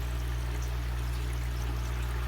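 Water and nutrient solution runs steadily through hydroponic grow tubes, a continuous broadband pouring rush with a low hum underneath and no voices.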